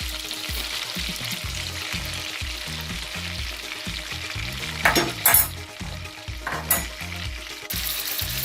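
Chopped garlic fries in butter and olive oil in a pan with a steady, close sizzle. A few spoon scrapes and stirring sounds stand out briefly near the middle, and no one speaks.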